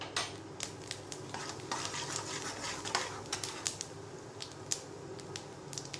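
Fennel seeds fry in melted butter in a pan, a low steady sizzle with light stirring and scattered metal clinks of a spoon against the vessel, fairly quiet and close.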